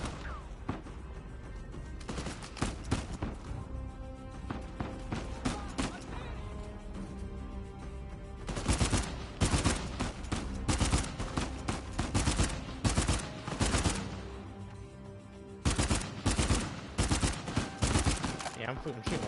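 Gunfire from a PS4 game during a live broadcast, dense bursts of rapid shots crackling through most of the stretch, heaviest in repeated loud volleys in the second half, with a player talking over the action.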